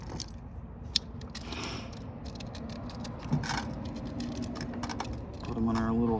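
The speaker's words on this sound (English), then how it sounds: "Let's pick up all the steel screws, sort through them really fast." Steel screws from an MRI power supply teardown are sorted by hand, giving scattered close metallic clicks and rattles, with a brief hum near the end.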